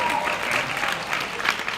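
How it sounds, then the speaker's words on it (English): An audience claps steadily at a Team Beachbody coaching event, a dense, continuous round of applause at close range filling the whole moment. "you guys can clap"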